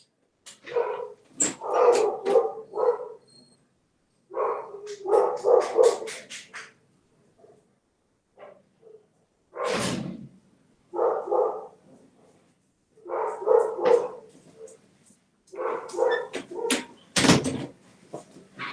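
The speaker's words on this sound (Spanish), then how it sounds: "solo voy a entrar a mi perra que ya se activó" A pet dog barks repeatedly in bursts indoors, loud and close, with clusters of sharp barks separated by short pauses and a door sound among them.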